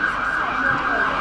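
An ambulance siren sounds loud and close in a city street during an outdoor protest, its steady wailing tone dominating the scene with crowd noise faintly beneath.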